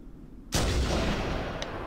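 A single loud gunshot in the video game Halo: The Master Chief Collection booms suddenly, followed by a long rumbling echo that fades slowly.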